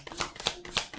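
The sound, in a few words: shuffling a deck of tarot cards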